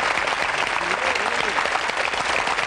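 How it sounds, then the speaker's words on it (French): Studio audience at a French-language game show final applauding a contestant, dense steady clapping filling the room throughout, with a voice speaking over it. "Je voudrais qu'on applaudisse Richard, s'il vous plaît."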